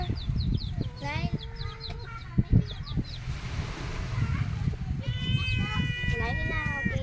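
A rooster crows and chickens cluck among other farm animals, with repeated bird calls and bleating-like cries mixed in, close by and under frequent talking.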